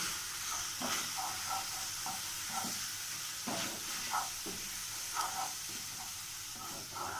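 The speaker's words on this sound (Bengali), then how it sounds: "মশলাটাকে আমি 1 মিনিট মতন কষিয়ে নেব।" Cumin and Kashmiri chili powder frying in oil in a pan, a steady soft sizzle and hiss with repeated scraping stirs at irregular intervals, faint and continuous with no talk.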